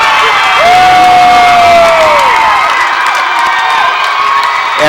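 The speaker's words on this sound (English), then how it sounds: "And that has woken the Hill City crowd up" A high school basketball crowd in Hill City roars after a Hill City Rangers three-pointer against Custer, with sustained loud cheering, whoops and shouts filling the gym, plus a squeak from a sneaker or whistle-like tone.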